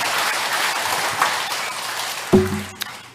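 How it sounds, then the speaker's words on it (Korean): Audience clapping during a Buddhist dharma talk at a temple's meditation hall, a sustained, moderately loud wash of applause in a reverberant room that runs on and is cut off by a sharp sound near the end. "이런 때는 박수도 한번 쳐야 돼."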